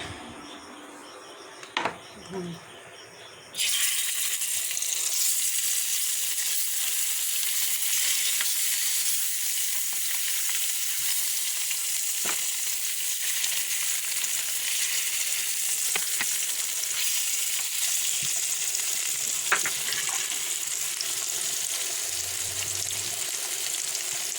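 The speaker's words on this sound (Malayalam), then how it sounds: "കുറിച്ചി വറക്കാൻ പോവുക." Kurichi fish frying in a pan, a loud steady sizzle that starts abruptly after a few quiet seconds with small knocks and continues unbroken, with occasional faint clicks.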